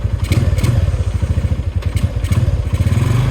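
Honda Tiger motorcycle engine on a test ride, a loud, close, steady rhythmic thumping putter throughout, with light rattling clatter.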